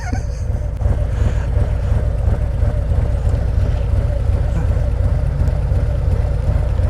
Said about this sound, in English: It sounds like a Harley now.